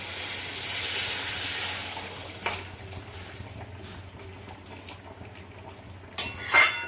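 Warm water pours into a pan of Bengali bhetki fish curry with potatoes and lentil dumplings, a steady close hiss of liquid over the first seconds that fades into a low simmer, with a sharp clink midway and metallic utensil clatter at the end.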